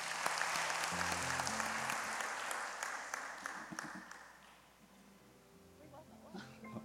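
A church congregation at a Sunday worship service claps to welcome new members, steady at first and then tapering off. Quiet low tones sound underneath, and the applause fades before a few scattered claps return near the end.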